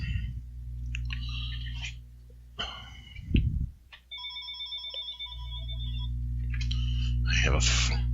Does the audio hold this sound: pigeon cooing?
no